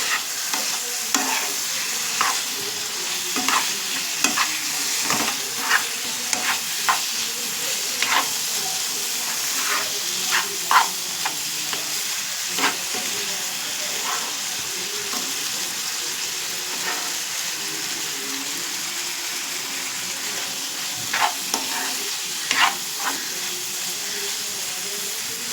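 Chilli pickle gravy fries steadily in a pan, a constant close sizzle and hiss carrying irregular scraping clicks of a spoon stirring through it, with no speech.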